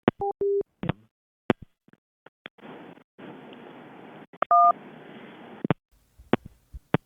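Telephone keypad tones and short beeps from a handset, a few paired-tone bursts separated by clicks, with a stretch of hiss and line noise between them, heard alone at close range.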